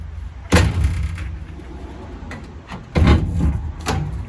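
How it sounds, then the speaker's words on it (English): A car door being opened from inside, with a slight grinding from a newly made lock and latch rod: two loud close clunks about two and a half seconds apart, separated by softer rattling mechanical sounds. "You hear a little grinding when I open the door."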